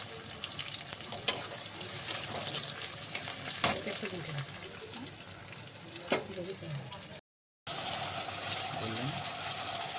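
Chopped onions fry in a wok, giving a continuous crackling sizzle with occasional sharp clatters of a utensil stirring, under intermittent talk.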